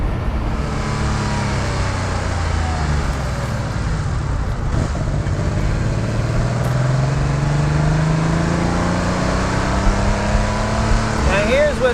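Classic Porsche engine pulling hard at high revs while driving, its steady loud drone and rising pitch continuous under heavy road and wind noise, with someone talking over it.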